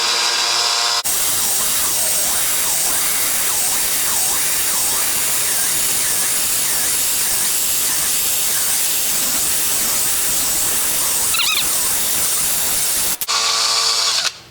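A power drill bores a hole into a broken wooden gunstock being reinforced, a steady, loud whine with a wavering pitch running for about twelve seconds, with no talk.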